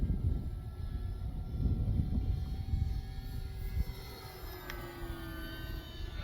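An Arrows RC Skycruiser model airplane flies overhead, a moderate engine drone with a gliding tonal whine that rises and then fades somewhat as it passes, no voices.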